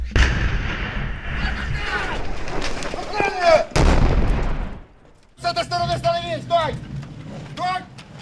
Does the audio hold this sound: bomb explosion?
yes